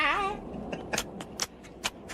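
A man's dry mouth sucking at his teeth as he wakes thirsty, a few short wet clicks and smacks, close and quiet, after a brief murmuring voice at the start.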